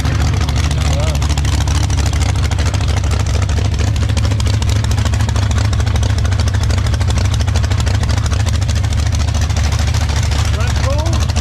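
A supercharged 318 Marine Chrysler built as a 325-inch pro stock motor, fitted in a 57 Gasser, running with a loud, steady, rumbling drone throughout at close range.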